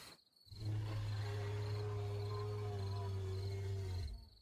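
A Lambeosaurus broadcast call in the video game Path of Titans, one long, deep, steady droning hoot that swells in, holds for several seconds, then cuts off, fairly quiet against faint ambient insect chirps.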